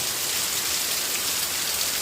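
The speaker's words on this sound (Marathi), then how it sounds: "अतिशय जोरदार पाऊस गोंधळी पूर्व परिसरामध्ये" Heavy rain pours steadily across an open village area in the Gondavali region of Maan taluka, a dense, unbroken hiss that stays loud and even throughout with no voices.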